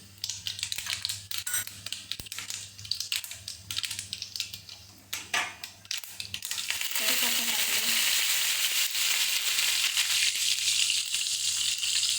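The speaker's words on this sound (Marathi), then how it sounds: "मोहरी टाकली आता जिरं टाकते" Mustard seeds and cumin sizzle in hot oil for Marathi kanda poha, a loud, steady crackling fry that swells after a few seconds of lighter popping and stirring.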